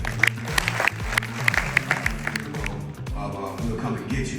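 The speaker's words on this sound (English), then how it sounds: "So we could get a round of applause." An audience claps for a conference panel in a brief, moderately loud round of applause. Sharp individual claps stand out over a murmuring room, with voices and tonal sound running underneath.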